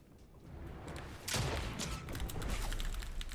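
Fortnite gunfire during a solo Cash Cup match, rapid bursts of distant and nearer shots with thuds layered over constant game ambience, fairly dense and continuous.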